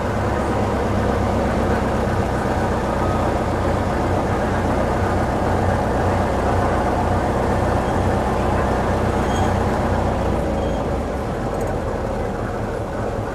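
A classic show car at the 2010 Geneva Concours burbles steadily at idle, a dense, continuous low engine rumble holding even and fairly close for the whole stretch, with no talk over it.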